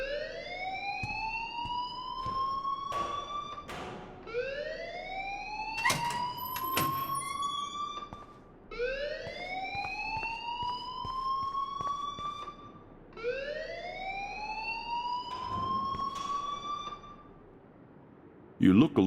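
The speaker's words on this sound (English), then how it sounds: "please turn off that alarm since that's your job" A fire alarm in the Life is Strange video game wails in repeated rising sweeps, four long cycles with brief gaps, loud and close, with clicks and other game sounds between.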